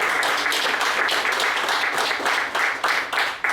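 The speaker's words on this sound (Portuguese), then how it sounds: "Você pode aplaudir Jesus pela vida dela?" A church congregation applauds together, steady rapid clapping that swells in rhythmic waves throughout.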